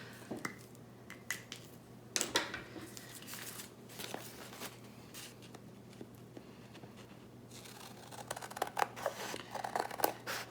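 Scissors snip through a photograph in a quiet room, close and crisp. Repeated sharp cuts come in uneven bursts with brief pauses and light paper rustling between them.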